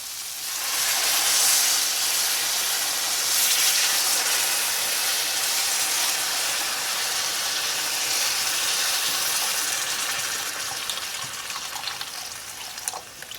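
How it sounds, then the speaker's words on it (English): Beef stock poured into hot seasoned sofrito in a pot, a loud close hissing sizzle and rush of liquid that holds steady for more than ten seconds before it eases slightly. "Now I'm going to hit it with some beef stock."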